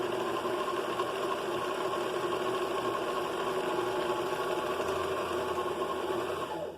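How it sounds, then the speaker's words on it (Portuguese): Domestic sewing machine winding its bobbin, a steady loud motor whir with a continuous buzzing hum that holds even for several seconds, then starts to slow at the very end. "No encher a bobina, também você vai acelerando moderado até completar o processo de encher."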